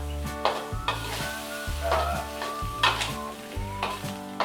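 Pork with spring onions stir-fries in a hot pan, giving a steady loud sizzle with repeated scraping stirs and rhythmic clinks of the utensil; no voices.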